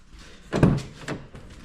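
Rear door of a Ford Focus opening, with one loud thunk followed by a softer second knock, set close by with no speech.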